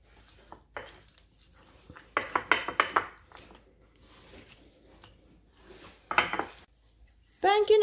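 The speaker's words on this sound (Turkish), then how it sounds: "Peynirimi bir güzelce ezeceğim." A fork works white cheese in a bowl for Turkish buns, giving scattered scraping and clinking strokes in short bursts, up close, with talk in between.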